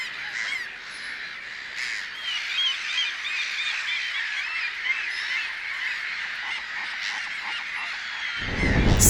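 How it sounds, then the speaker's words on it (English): A flock of seabirds calling over a Faroe Islands meadow, a continuous chorus of many overlapping honking cries, fairly loud and carried on the air, with a gust of wind rumble at the very end. "we also noticed the hundreds of seabirds flying below"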